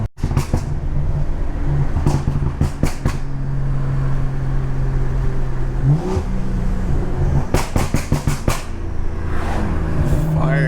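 A BMW 340i with the B58 engine driving, a low steady engine drone broken by sharp clusters of exhaust pops and crackles, close and loud, with a rising rev partway through.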